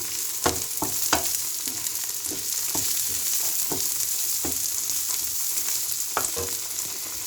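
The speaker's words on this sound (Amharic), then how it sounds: "እዚህ ጋር ሽንኩርት እየበሰለች ነው።" Onion fries in a pan with a steady, close hiss, broken by sharp clinks and scrapes of stirring at irregular intervals.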